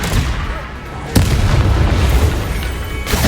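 A Confringo spell explosion in Hogwarts Legacy strikes with a sharp, loud boom about a second in, followed by rumbling combat noise and a second impact near the end.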